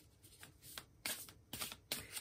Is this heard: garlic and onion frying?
no